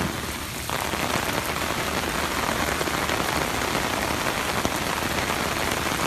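Heavy rain pours steadily during flooding in Scott Township, a dense, continuous roar of drops hitting surfaces close by, loud and unbroken throughout.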